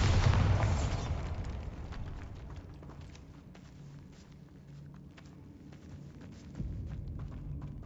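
A Bombarda blasting spell goes off in a Hogwarts video game, a deep booming explosion at the start that rumbles and fades into a low lingering hum, with a second dull thump near the end.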